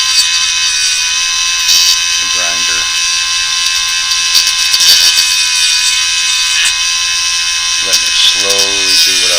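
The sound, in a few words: grinder shaping a plastic mouse fishing lure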